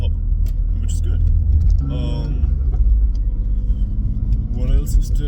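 A BMW E36 engine idles with a low, steady rumble and exhaust burble, close by, as a person speaks briefly over it.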